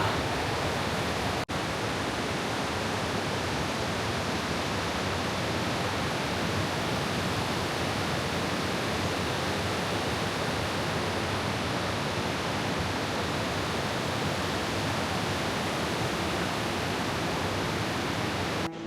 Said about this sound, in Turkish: Arkamda hem şelale hem derin bir mağara hem kanyonun içerisinde akan su